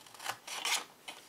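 Scissors cutting paper while making an Easter basket place card, a few short crisp snips and rasps heard up close with no talk.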